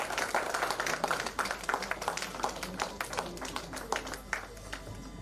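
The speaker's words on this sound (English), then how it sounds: "Can we all welcome him with a round of applause," Audience applause at an evening alumni get-together celebration, a steady patter of many hands clapping across the room, moderately loud and continuous throughout.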